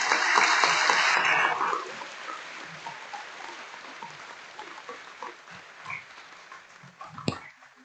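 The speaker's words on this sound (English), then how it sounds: "let's have a good round of applause for our graduates" Applause for graduates at the Auckland Institute of Studies graduation ceremony 2024: a dense burst of clapping from a crowd for under two seconds, then fading into scattered murmurs and room noise.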